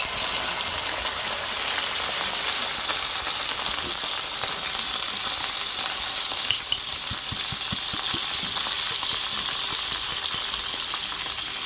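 Canned ground beef frying in a hot cast iron pan, a steady loud sizzle running the whole time with a few soft scrapes and clicks of a utensil near the end.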